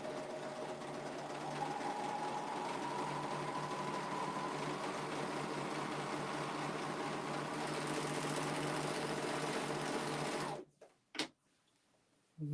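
A four-thread serger overlock machine overcasts the edge of woven fabric in one steady, close, loud run of about ten seconds, then stops, leaving a couple of faint clicks.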